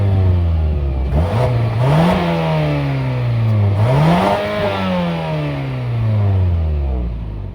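A 2022 Mazda CX-5's 2.5-liter four-cylinder engine revs from idle, climbing and falling through three or four blips before settling back to a steady idle, heard close and loud with no talk.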